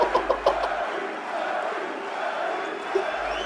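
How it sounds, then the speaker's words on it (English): Crowd cheering and chanting for Larry Bird at his Basketball Hall of Fame enshrinement, a sustained distant roar of many voices in a large hall, with a few sharp knocks at the start. "Cheering his name."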